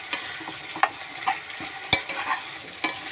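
Okra for a bendakaya pulusu cooking in hot oil, soft steady sizzle with several sharp spoon scrapes and taps against the pan at irregular intervals, moderately close.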